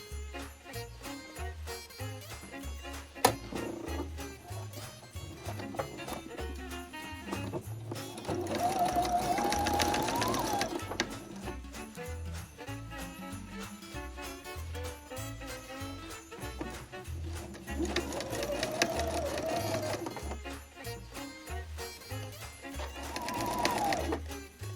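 Sewing machine stitching a quilted Christmas stocking of felt and fabric, a fast steady mechanical chatter running throughout at close range with a few brief surges in speed, alone and moderately quiet.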